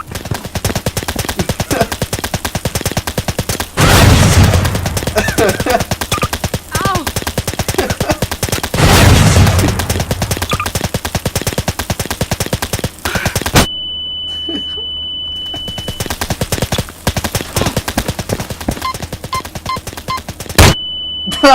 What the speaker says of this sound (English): The turret's still shooting!